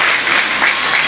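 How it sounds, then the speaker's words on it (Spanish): Loud, steady applause from a congregation at a church wedding, given in praise of Jesus Christ, a dense unbroken wash of clapping filling the whole moment. "Vamos a dar un fuerte aplauso al Señor de señores, al Rey de Reyes, a Jesucristo."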